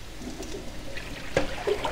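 Murky soaking water from washed spinach pours off, a faint trickling splash with a couple of brief gurgles and drips, close by and without talk.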